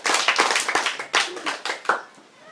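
Brief applause from a modest high school audience greets a debater, a few seconds of fairly close, uneven hand claps that fade out near the end.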